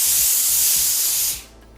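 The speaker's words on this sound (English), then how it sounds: "I'm going to start my demonstration by showing off the powerful steam from Laurastar." A Laurastar steam iron lets out a loud, steady hiss of steam for over a second, then cuts off sharply, leaving quiet.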